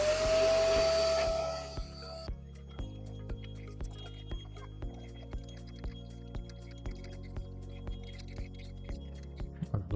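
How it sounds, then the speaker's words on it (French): An ash vacuum cleaner runs loudly for about two seconds while sucking leftover ash from inside the bowl of a ceramic kamado barbecue, then cuts out and leaves soft, regular clicking and faint tonal hum. "j'ai sorti mon aspirateur à cendres et je vais passer un premier coup à l'intérieur de la cuve pour aspirer les dernières cendres qui restent"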